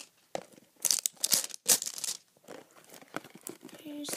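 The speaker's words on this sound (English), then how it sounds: "So I took the wrapping off" Plastic wrapping being torn and crinkled off a mystery mini blind box, in a close series of irregular crackling bursts with short pauses between them.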